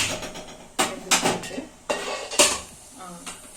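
An idli steamer pot is opened in a home kitchen while making poorana kolukattai, with several sharp metallic clanks and scrapes of the lid and pot spaced irregularly and fairly close.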